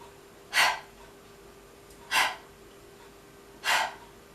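Three short, controlled outward pants from a breathing exercise, evenly spaced about one and a half seconds apart, with no audible inhale between them; close and fairly quiet.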